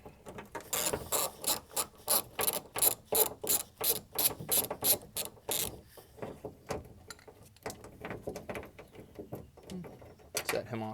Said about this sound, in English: So we're just going to remove this 10mm.